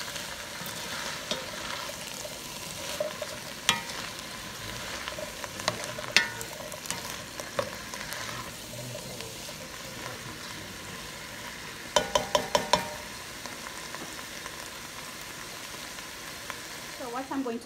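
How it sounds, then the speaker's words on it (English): Chickpea stew with sweet potato and red pepper flakes sizzling and frying in a pot while being stirred, with steady crackling and occasional scraping clicks of a utensil, close and moderately quiet. "Stir it up again."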